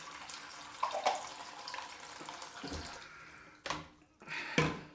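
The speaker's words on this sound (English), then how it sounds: "let's just fill up my bowl and my bottle" Tap water running and splashing as a shaving bowl and a two-piece bottle are filled, with irregular trickles and brief louder gushes near the end.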